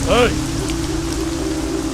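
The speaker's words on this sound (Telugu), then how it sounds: "ఈ వర్షం ఆగేలోగా" Steady rain falls throughout, a dense, even hiss with a voice briefly heard near the start.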